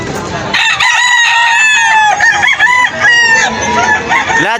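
Chickens and roosters at a Bocaue, Bulacan animal market, with loud, repeated close crowing layered over busy clucking throughout.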